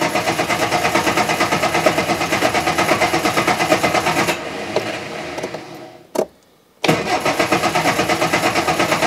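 A Reliant Fox engine cranks over on the starter with the coil disconnected, a loud rhythmic churning that runs for several seconds, softens, stops briefly, then resumes, with no firing.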